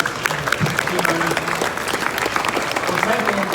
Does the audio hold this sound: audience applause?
yes